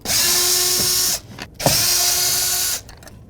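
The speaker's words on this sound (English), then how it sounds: "take your screwdriver, pop the housing off" Two sustained bursts of a whirring power screwdriver work on the door speaker housing of a 2003-2011 Honda Element, each running about a second and a half, separated by brief clicks and handling noise.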